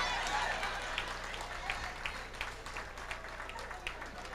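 An audience at a 1994 award event claps steadily, a faint, distant wash of hands with scattered sharper claps standing out over several seconds.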